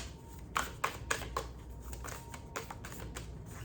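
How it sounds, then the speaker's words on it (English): Soft, quick riffling bursts of a card shuffle, several short flurries close by in a quiet room. "Let me do a quick shuffle."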